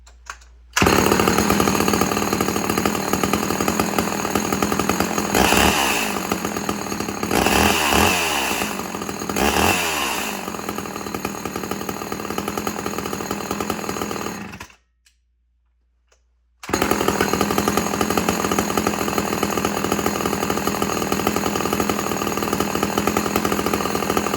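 A gear-drive Homelite chainsaw runs loud and close with a steady rasping roar, briefly rising and falling, then cuts out for a second before roaring again.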